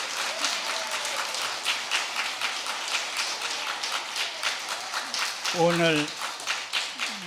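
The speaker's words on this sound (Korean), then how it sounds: "박수로 환영해 주시기 바랍니다." Congregation at a church service clapping to welcome a visiting choir of mothers, a continuous rippling applause of many hands with a voice speaking briefly over it near the end.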